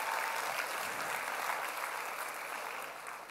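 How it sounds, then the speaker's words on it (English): A round of applause from a seminar audience, many hands clapping in a dense, steady wash that runs the whole time and tapers off slightly toward the end, with no voices over it. "give yourselves a round of applause"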